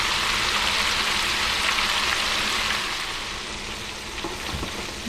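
Pieces of remora fish deep-frying in hot oil, a steady dense sizzle and crackle filling the clip, loud at first and easing slightly toward the end, with no voices.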